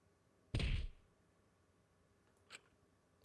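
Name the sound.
dull thud of a punch in the video game Danganronpa V3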